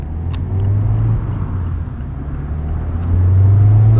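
A 2024 Mazda MX-5 Miata ND3 Grand Touring with an aftermarket exhaust, heard from inside, revs with a steady, close, loud low rumble that swells harder near the end.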